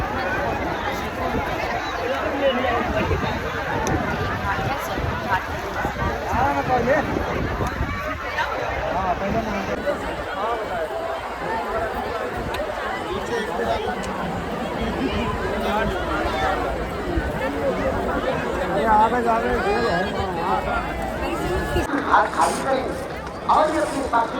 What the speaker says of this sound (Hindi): लेकिन हाँ इधर बहुत भीड़ है